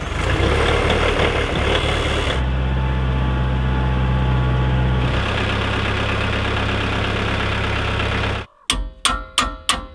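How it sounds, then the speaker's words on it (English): A Branson tractor's engine runs and idles with a steady low diesel drone, shifting pitch partway through, then cuts out and is followed by several sharp, rapid mechanical bursts near the end; no talking. "Let's fire up the Branson."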